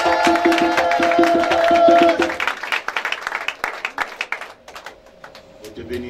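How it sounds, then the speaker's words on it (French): Applause from a church congregation greeting a preacher, starting under amplified music and continuing as scattered, uneven claps that thin out toward the end, with some voices faintly mixed in. "Sous vos acclamations, j'ai l'honneur de vous présenter le prophète Jean Castro que nous acclamons plus fort"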